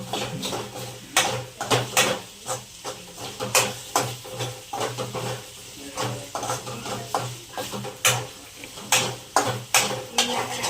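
Grated potato and green chillies sauté in a pan for sabudana khichdi, with repeated spatula scrapes and clinks in an uneven rhythm over a soft sizzle, close by.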